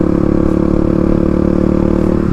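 A 35 hp Kawasaki KLX351 dual-sport motorcycle engine runs loud and steady up close, with a constant rough, throbbing idle and no talking.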